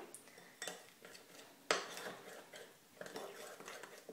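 A spoon stirs single-serve cookie dough in a small dish, with soft scraping and clinking in short bursts. The sounds are faint and close.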